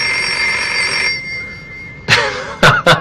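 A telephone bell rings with a sustained bright trill that cuts off, then after a pause several short sharp bursts follow, loud and close, with no voices over it.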